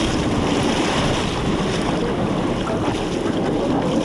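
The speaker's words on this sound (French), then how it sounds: "le moteur électrique permet aux touristes de profiter du clapotis des vagues" Steady lapping of waves on the Lac d'Orient heard from aboard a quiet electric tour boat, a continuous wash of water with wind noise rumbling against the microphone, no voices.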